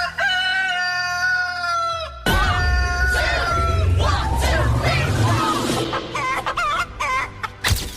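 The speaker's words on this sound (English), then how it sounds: "the cast decided to have a little fun with Liz Diamond by jumping on the viral chicken dance trend that was taking over social media" Loud chicken-style clucking and crowing over a catchy tune, played on a film set during a cast prank, followed by busy crowd noise and voices.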